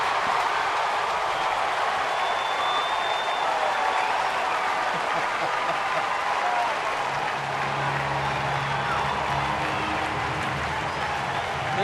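A large baseball crowd at Turner Field in Atlanta roars and applauds steadily after a line drive, a dense, loud wall of cheering that swells slightly toward the end.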